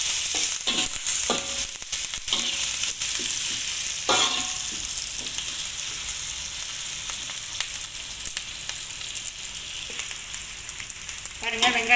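Onions and curry leaves sizzle steadily in a hot pan for the full stretch, with occasional stirring scrapes and clicks breaking through the constant frying hiss; no one speaks.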